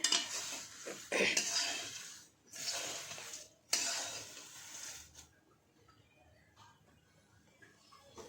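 Poha being stirred in a pan while roasting crisp, with dry rustling scrapes of a spoon through the flakes in several strokes, loud at first and then fading to faint sporadic scraping.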